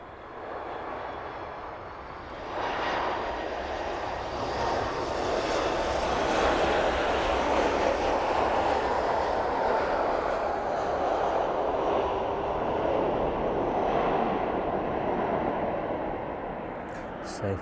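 A West Atlantic jet touches down at East Midlands Airport in the evening, its engine roar swelling from a distant rumble into a loud, sustained rush along the runway as a commentator talks over it.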